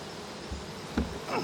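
Honeybees in an opened hive being requeened, left unsmoked and agitated, buzz in a steady close drone with rising swells near the end.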